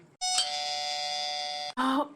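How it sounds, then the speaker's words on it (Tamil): A doorbell rings indoors with a long sustained electronic chime followed by a short second tone, loud and clear with quiet on either side. "Calling bell."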